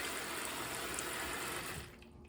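Collard greens being washed in a pan of salted soaking water: steady splashing and rushing water sounds up close, loud and continuous, dropping away near the end.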